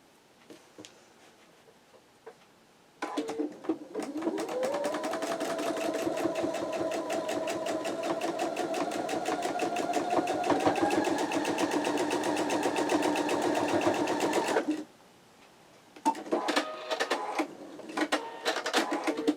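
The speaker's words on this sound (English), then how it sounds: "I keep trying to sew and I just feel this little hair tickling" A sewing machine stitches flying geese quilt blocks, running in one steady, rapid, loud burst of needle clatter for about twelve seconds, then stopping before a few shorter stitching spurts.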